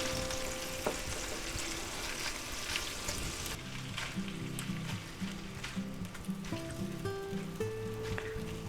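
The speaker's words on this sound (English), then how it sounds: "so we're just going to cook it up. Okay, let's give them a flip. Just kind of mix them up, right? Get some of that fat rendered down there." Slices of mortadella sizzle and fry in a pan, rendering their fat, with a steady crackling hiss throughout and occasional scraping and clinking as the pieces are flipped and stirred.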